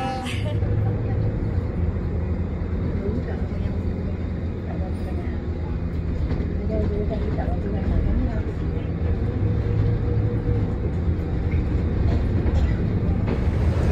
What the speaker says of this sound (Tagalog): So now we're going to take the train.